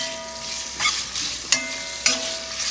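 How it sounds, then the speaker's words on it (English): Diced ham frying in a pan while being stirred, a continuous sizzle broken by a few sharp scrapes of the utensil against the pan, close and clear with no voices. "I'm giving it a stir it around."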